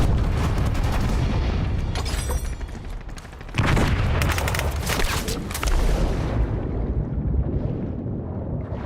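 Loud, continuous gunfire and booming blasts from Call of Duty Warzone on the Verdansk map, dense and unbroken across the whole stretch, with a short dip before the blasts resume near and heavy.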